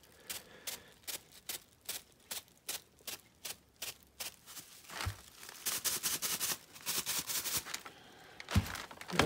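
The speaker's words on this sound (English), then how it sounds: "keep crumpling it up." Paper or cloth being crumpled over and over while refurbishing burlwood paint on quarter window trim from a 1948 Chevy Fleetmaster, with rhythmic crisp crinkling bursts that turn denser and more continuous toward the end, close and fairly quiet.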